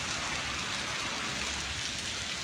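Heavy rain pours down in Solan, Himachal Pradesh, a dense, steady roar of water that holds evenly throughout with no voices over it.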